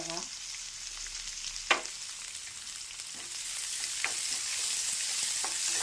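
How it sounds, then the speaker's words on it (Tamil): Mustard seeds and onions fry in a pan, a steady close sizzle with a few sharp pops and clatters standing out from the continuous crackle. "இப்போது கடுகு எடுத்துட்டு வெங்காயம் நல்லா தாராளமாக வெங்காயம் போடலாம்"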